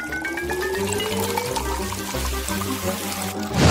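Sprite is poured steadily into a glass, a continuous close fizzing splash that holds for several seconds with a rising tone as the glass fills, then a brief louder burst at the end.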